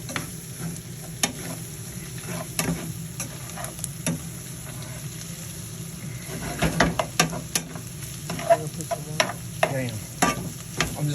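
Tomato paste for a Bolognese cooks in a pan with a low, steady sizzle, broken by irregular clinks and scrapes of stirring that grow busier toward the end, close and without voices.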